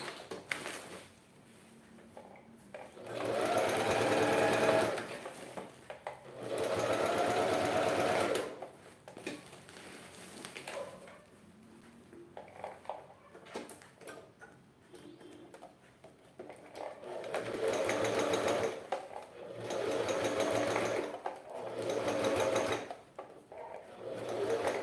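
A sewing machine stitches bias binding onto a fabric wine holder in several runs, steady rapid mechanical whirring that starts and stops with quiet pauses between.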